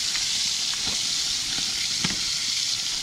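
A Beyond Burger patty on a Char-Broil Grill to Go gives off a steady, close hissing sizzle with scattered light pops and crackles.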